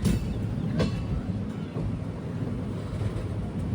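The Chennai Egmore Express from Kollam rolls toward Madurai Junction, a steady close rumble of wheels on rail with a faint clatter and wind buffeting throughout.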